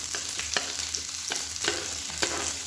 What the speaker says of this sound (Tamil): எண்ணெய் சூடானதும் மீடியம் சைஸாக 2 பெரிய வெங்காயம் கட் பண்ணதை சேர்த்துக்கலாம்.